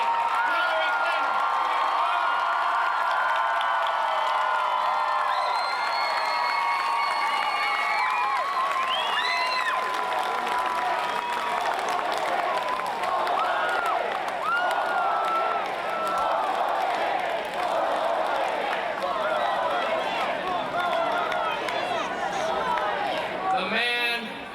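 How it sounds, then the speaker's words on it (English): A large crowd at a 1996 presidential campaign rally in Centralia, Washington applauds and cheers continuously, a loud, dense wash of clapping, whoops and shouting sustained for the whole stretch. "Let's give a big round of applause one more time to the President, the Vice President, Hillar"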